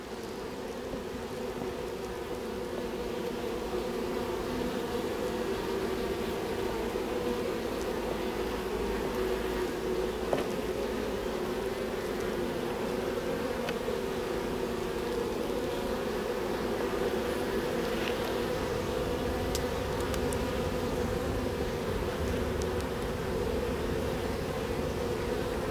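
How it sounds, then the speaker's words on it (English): Honeybees buzzing around a beehive, a steady, continuous hum of many insects at close range, unbroken throughout with no voices. "Some of the bees are a little confused."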